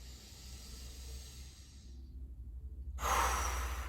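A deep breath during a gentle exercise session: a long, airy exhale that fades into a brief pause, followed by a sharp, louder inhale at the end, close to the microphone, over a low background hum.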